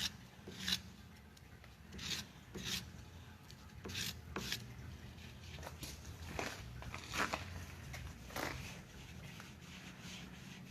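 A hand tool deburrs the inner edge of a machined shift knob, producing a close series of short scraping and rasping strokes in an irregular rhythm over a steady low background hum.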